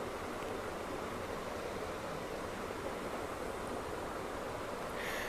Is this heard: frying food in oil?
yes